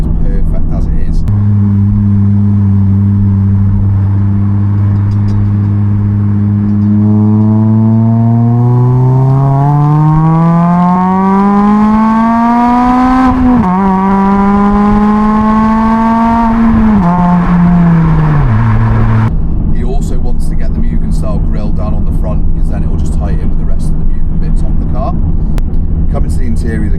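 A Honda Civic Type R FN2's engine and exhaust drive past loud and close, the tone climbing steadily through the revs, dropping at a gear change, then climbing again before easing off.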